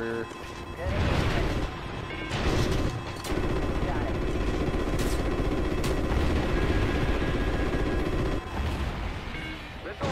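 Missile launches and bursts of gunfire crash through a Call of Duty Ghosts aerial combat mission, with loud booms and rattling shots layered densely, while voices call out over the battle.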